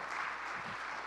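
Audience applause in a church service setting, a steady wash of many hands clapping together at moderate volume throughout, with no speech over it.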